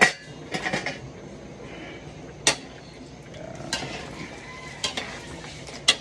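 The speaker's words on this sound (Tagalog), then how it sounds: "Pinirito natin yung mga sinakap natin dyan." Ingredients fry in a pan for a Filipino pochero dish, with a soft continuous sizzle. Sharp metal clinks and scrapes from a utensil striking the pan break in at intervals.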